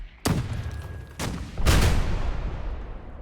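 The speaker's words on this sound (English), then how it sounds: "I heard like 2 explosions" Rocket explosions in the video game Arma: two loud, sharp blasts about a second apart, each with a long rumbling decay, the second heavier and lingering.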